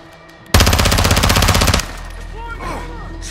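A Call of Duty Modern Warfare II machine gun fires one loud, rapid burst lasting just over a second, close up. A rumbling background follows, with faint game chatter and tonal effects afterward.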